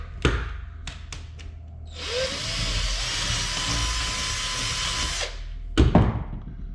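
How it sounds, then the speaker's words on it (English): A power drill boring through the stainless steel mudflap weight on a Kenworth W900L truck: a brief drill burst and a few clanks, then a steady, loud whine for about three seconds before it stops, followed by more handling knocks. "And I drill through."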